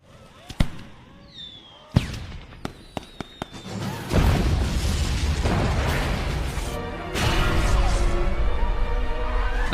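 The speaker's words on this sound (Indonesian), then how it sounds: "Sebagian mercon meledak di udara, sedangkan sebagian lagi meledak di bawah." Firecrackers go off in the air and on the ground: a few sharp, separate pops at first, then dense, roaring bursts of crackling explosions that carry on loudly to the end.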